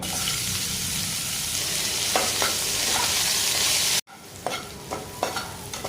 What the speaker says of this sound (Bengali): মাছ ভাজার তেলের মধ্যে আর একটু তেল দিয়ে দেবো এবার উচ্ছেগুলোও ভেজে নেবো